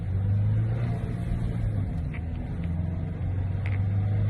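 Steady low engine drone and road rumble inside a moving car, fairly quiet and continuous with a few faint clicks.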